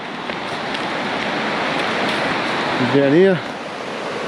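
Steady rushing of a river flowing past a riverside spot, a broad even wash of water noise close by, with a short whooping voice rising over it near the end.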